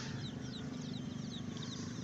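Chicks chirp in a busy outdoor bird market in Karachi, with high, rapid peeping from many birds over a steady low background hum.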